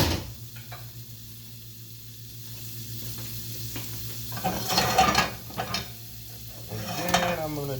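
Bacon strips sizzle and spit in a hot frying pan, a steady close crackle punctuated by louder bursts of popping and the occasional clatter of the pan.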